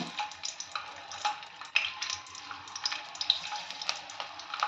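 Garlic sautéing in oil in a pan for radish chutney: a steady, soft sizzle with light crackles and occasional stirring taps, close and moderately quiet.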